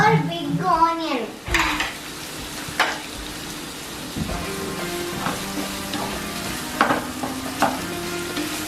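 Four big onions, added after ginger garlic paste, fry and get stirred in a pan, a close sizzle broken by spoon scrapes and metal clanks, with a brief voice at the very start.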